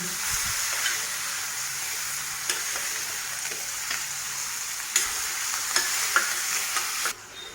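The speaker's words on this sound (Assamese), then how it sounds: "এতিয়া অকণমান কম জুইত মই লাহে লাহে ইয়াক ভাজিম" A fish head frying slowly in oil over low heat for bhuna masala gives a steady soft sizzle, with occasional small pops and spatters, close and continuous throughout.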